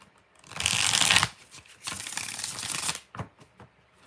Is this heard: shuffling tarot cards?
yes